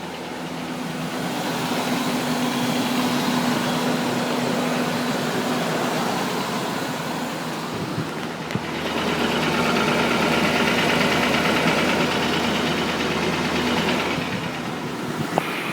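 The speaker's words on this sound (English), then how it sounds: "I hear some dry lifter noise." A 1974 Sears Suburban SS16 garden tractor engine idles steadily and close by, a low continuous drone with a faint dry lifter tick under a cooling fan's hiss, running alone throughout.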